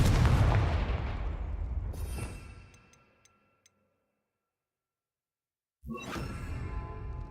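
A Confringo fire spell blasts in Hogwarts Legacy, a loud booming burst that decays over a few seconds into near silence, followed by another sharp blast near the end.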